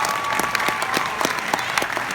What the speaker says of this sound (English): so another round of applause for Heather and Tijan.